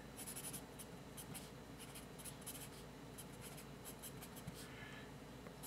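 A Mitsubishi B drawing pencil scratches across paper in a steady run of quick strokes, a soft, close, continuous graphite rasp with short pauses between bursts.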